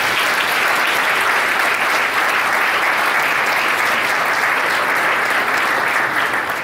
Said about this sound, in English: Can we give our sponsors a huge round of applause?